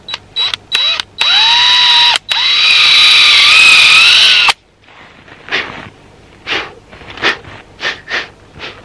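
A power drill bores a tap hole into a maple tree for syrup, loud whirring bursts in short starts then a long steady run of about three seconds, followed by quieter rustling and handling sounds.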